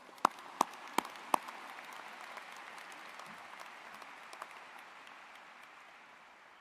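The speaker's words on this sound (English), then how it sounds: "Give yourselves a round of applause for that." Student athletes at a graduation celebration applaud themselves: a few sharp, distinct claps open into steady, fairly soft crowd clapping that carries on evenly to the end.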